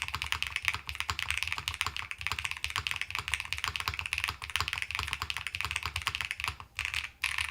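Keys clatter steadily on a Bauer 65 keyboard fitted with a plastic polycarbonate plate, a dense, continuous run of soft, muted keystrokes close to the mic with brief pauses near the end.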